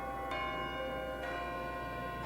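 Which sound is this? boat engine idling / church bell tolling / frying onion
church bell tolling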